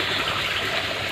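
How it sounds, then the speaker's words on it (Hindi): Water rushes steadily into rice paddy fields as a continuous broadband gush, close and fairly loud, with no talking. "इधर पानी जा रहा है खेतों में"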